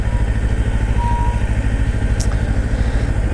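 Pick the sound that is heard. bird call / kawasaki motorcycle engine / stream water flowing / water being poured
kawasaki motorcycle engine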